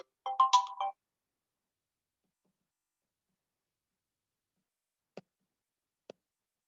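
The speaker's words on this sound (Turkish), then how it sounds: "bir anda burada telefonum çaldığı için farklı bir şey söyledim" A mobile phone rings with a brief melodic ringtone burst that cuts off after under a second, followed by long quiet and two faint clicks.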